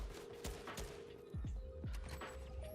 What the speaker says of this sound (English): this guy just keeps hitting headshot snipes, man.